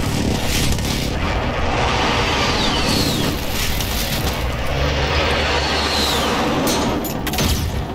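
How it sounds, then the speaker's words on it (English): Airstrike explosions and battle noise in the Call of Duty: Modern Warfare open beta: a loud, continuous wash of booms, rumble and scattered gunfire fills all eight seconds, with no voices. "I'm putting an airstrike on that"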